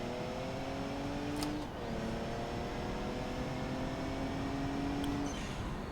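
A car engine in the racing game Automation, its pitch rising steadily as it accelerates, briefly dropping at a gear shift, then climbing again. The whine is steady and close, with no talk over it.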